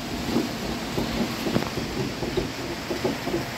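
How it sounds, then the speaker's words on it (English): Steady rain falls outdoors on a rainy morning, a constant hiss with soft patters and low rumbles, moderately loud and without talking. "It's raining."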